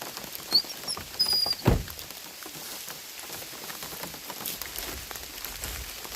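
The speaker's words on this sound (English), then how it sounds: "It's starting to rain a lot harder." Steady rain patters on nearby surfaces, a soft continuous spatter with a few sharper, louder taps and rustles close by.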